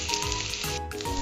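Pumpkin sautéing in a hot pan, a brief, continuous loud sizzle and crackle of frying with a faint stir partway through.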